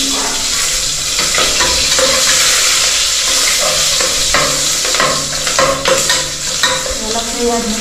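Chili frying for biryani in a home kitchen, a loud steady sizzle close by with scraping stir strokes and clinks of the pan throughout, no voices.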